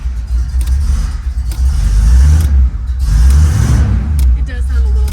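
An original 1982 Chevrolet Camaro's engine rumbles steadily at low pitch with a boat-like burble, close and fairly loud, with voices talking over it.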